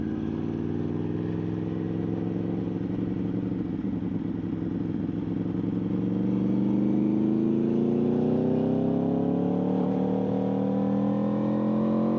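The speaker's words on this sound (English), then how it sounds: "Nice blue manual Supra." A blue manual Toyota Supra passes with a rising engine note, its revs climbing steadily as it draws nearer, heard over a constant low road rumble with no voices.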